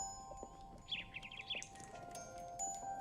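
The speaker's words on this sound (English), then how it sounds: "Birds tweeting." Faint, brief bird chirps in a short cluster of tweets over a steady background hum, with no talk.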